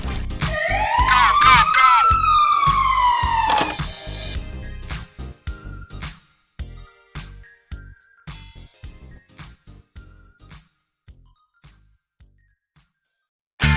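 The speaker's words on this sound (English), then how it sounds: "Fire truck." A cartoon fire truck's siren wails loudly for several seconds, its pitch rising and falling. Busy clattering music and effects follow as it fades.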